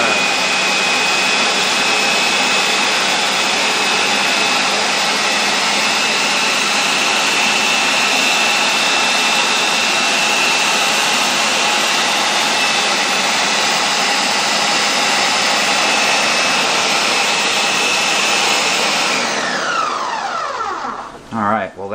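A blender whirs a hemp shake in a loud, steady, high roar that runs unbroken for about nineteen seconds, then cuts off and quickly winds down.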